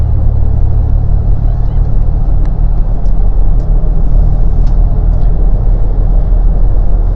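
A 1991 GMC Syclone truck drives along a quiet road, its engine rumble and road noise steady and close throughout, with faint ticks and rattles above the drone.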